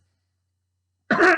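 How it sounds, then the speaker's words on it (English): After a second of silence, a single short, harsh cough or throat-clearing bursts out close by. "Quit coughing"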